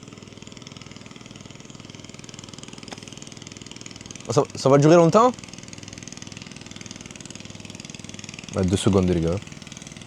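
A vehicle engine idles in Bangkok with a steady, even drone that runs throughout at moderate loudness, while voices break in twice for short spells.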